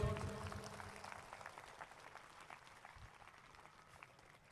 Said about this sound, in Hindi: आज जोर से ताली बजाएंगे,